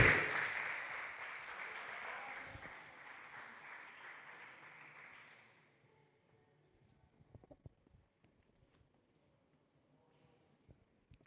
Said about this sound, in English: a round of applause for the fastest lap holder as well, Hamza Zaid.